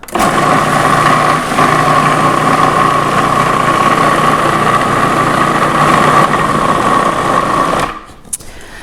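A food processor blends defrosted peas into hummus, a loud, steady whirring motor hum that runs continuously for about eight seconds and then cuts out.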